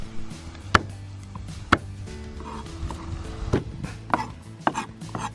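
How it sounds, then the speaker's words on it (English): Garlic cloves being lightly crushed on a kitchen board for a traditional Gascon garlic soup, heard as a few sharp, close knocks and thuds spaced irregularly over quiet kitchen background. "The idea here is to lightly crush each clove, but kind of keeping them intact."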